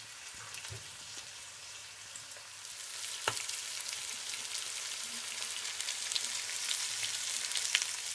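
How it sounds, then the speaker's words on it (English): Chicken pieces fry in a hot pan for a curry, giving a steady, fairly quiet sizzle with scattered crackles and pops that grows slightly louder as the heat is raised, no voices. "Do you hear the sizzling?"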